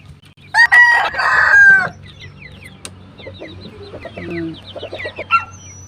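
A native chicken crows loudly and clearly up close, followed by scattered softer clucks and chirps over a quiet background.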